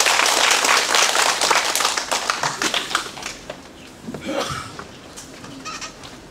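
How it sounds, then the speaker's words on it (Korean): An audience at an academic presentation claps for a presenter, brisk dense clapping at first that thins into scattered individual claps and fades out, with a brief late flurry. "큰 박수 부탁드립니다."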